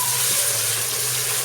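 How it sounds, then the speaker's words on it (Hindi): Water runs steadily into a pan, a continuous close splashing hiss with no talking. "इसके साथ में पानी चला देंगे।"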